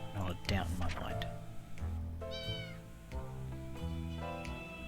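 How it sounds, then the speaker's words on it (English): A cat meowing in the survival game 60 Seconds, several drawn-out meows at moderate volume amid game sounds and speech. "Was that a meow?"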